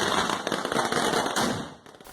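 Fireworks go off at a temple during a massive display, producing a loud, dense, continuous crackle and popping that fills the whole stretch and thins slightly near the end.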